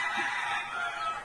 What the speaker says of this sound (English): and a half-dozen fighting roosters believed to be his